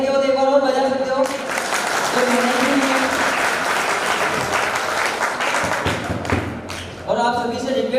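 Sustained applause from an audience at a reward celebration program in a hall, dense and loud from about 1.3 to 7 seconds, with speech before and after it.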